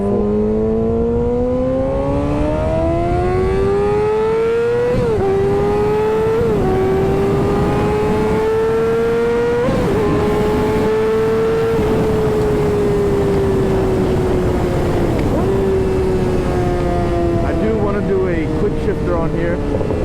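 Yamaha R6 sportbike fitted with an M4 GP exhaust, its engine climbing through the revs in repeated pulls with short dips at each gear change, loud and close over steady wind rush.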